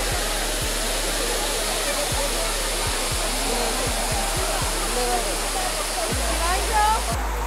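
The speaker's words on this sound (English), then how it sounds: "So this is the most beautiful waterfalls in Chikmagaluru apart from Hebe Falls." Jhari Falls in Chikmagalur roars as a dense, constant rush of falling water, loud and close throughout, while a person talks over it.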